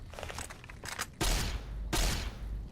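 Gunfire from a three-shot burst weapon in a video game, two heavy loud blasts with booming low end, each following a stretch of quieter game sounds.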